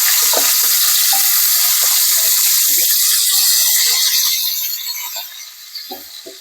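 Drumsticks hit hot oil seasoned with cumin and mustard seeds, giving a loud, close, broadband sizzle with crackling spits that gradually quietens toward the end.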